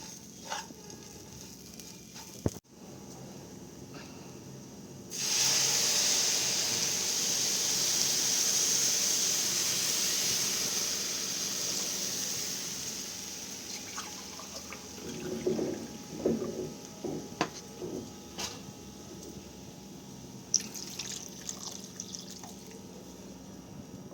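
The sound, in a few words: water added to oats and vegetables in hot pan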